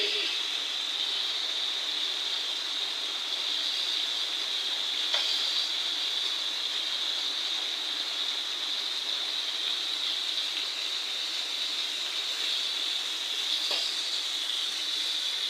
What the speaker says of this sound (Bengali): অনেক বৃষ্টি হইতেছে বাইরে